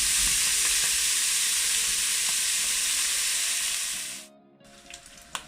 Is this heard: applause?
no